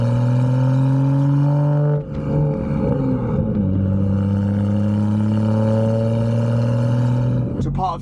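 Interior engine noise in a 430 hp BMW M235i on the road, a loud droning engine tone that rises in pitch, drops sharply at a gear change, then climbs again, with road rumble underneath.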